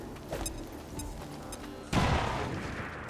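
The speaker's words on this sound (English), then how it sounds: "Just throw a grenade." A grenade explosion in the video game XCOM 2: a sudden loud, broad boom that rings out and slowly decays, following a stretch of quieter game sounds.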